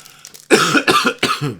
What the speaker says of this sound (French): T'as le droit de tousser.